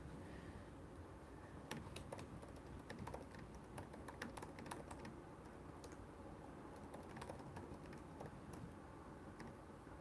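Steady, quiet typing on a computer keyboard in a home painting studio, with many light irregular key clicks over low room noise throughout.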